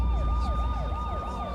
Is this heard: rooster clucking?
no